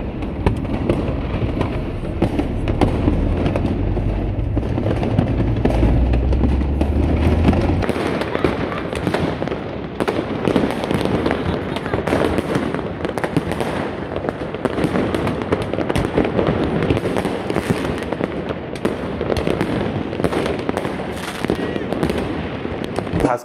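New Year's fireworks burst over Tbilisi, with dense continuous crackling and booming from many nearby balconies and apartments, loud and unbroken throughout, and a heavy low rumble at the start.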